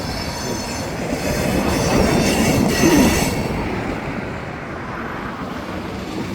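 A freight train switches cars, centerbeam car among them, rolling past close by with a steady rumble and rattle of wheels. Wheel squeal rises near the middle of the pass, then the sound eases off.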